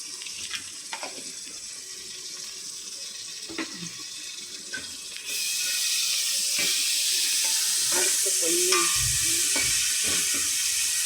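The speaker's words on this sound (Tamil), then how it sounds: "கிண்டிக்கலாம், வதக்கலாம்" Ginger garlic paste being stirred and sautéed in a pan for mutton curry, with scraping stirs and a sizzle that jumps to a louder, steady frying hiss partway through, close and without talk.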